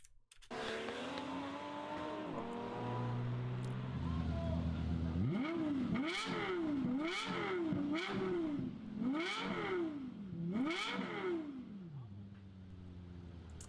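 A Lexus LFA engine revs hard in a rapid series of about six rising and falling blips after a smooth climb, loud and close, with a high shrieking note.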